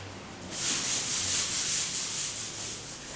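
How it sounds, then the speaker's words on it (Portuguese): A classroom board being erased with repeated quick rubbing strokes. The dry, scratchy friction runs for about three seconds, close and moderately quiet, with no talking. "Eu vou apagar aqui e a gente já vai para o próximo."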